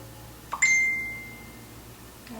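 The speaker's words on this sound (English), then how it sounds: "there's my phone. I thought I put it on silent, but apparently not" A phone notification chime rings once, a bright clear tone that rises sharply and rings out for about half a second in an otherwise quiet room, followed by a faint small sound.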